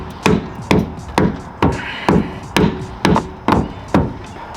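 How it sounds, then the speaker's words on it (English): A mallet strikes metal on a Bronco's suspension during a Dobinsons IMS lift kit install, delivering nine evenly spaced, sharp, ringing blows about half a second apart, loud and close. "So I'm gonna take a mallet and just"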